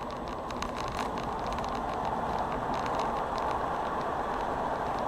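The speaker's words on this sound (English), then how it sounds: "Now I'm just going to drop one of the car windows down just so you get a bit of wind noise in" Wind rushing through an open car window while driving at night: a steady broad whoosh over low road rumble, fairly constant and close, with no talking.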